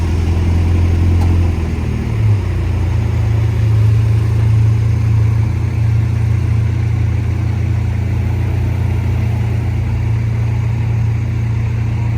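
A tow truck engine drones steadily, a low sustained hum with a slight shift early on, as it pulls away, close and loud with no talking.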